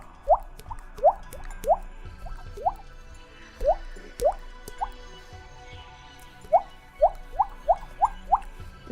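A person imitates water droplets with the mouth, producing a dozen or so crisp hollow plinks in irregular bursts, close and clear with no talking.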